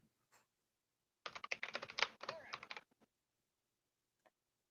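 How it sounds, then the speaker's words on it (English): Computer keyboard typing comes through as a quick burst of close, crisp key clicks lasting under two seconds, framed by near silence with only a couple of isolated taps before and after. "I hear you typing."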